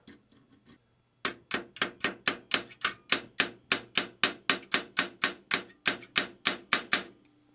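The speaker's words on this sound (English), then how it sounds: "I'm going to hammer that down." A copper rivet on a model steam locomotive is hammered down onto a snap with about twenty sharp, evenly spaced taps, loud and close, after a second of quiet handling.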